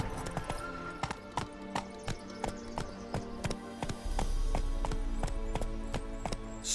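Galloping horse hooves in The Witcher 3: Wild Hunt, a steady run of sharp clip-clop beats under a continuous low rumble and faint game ambience. No voices.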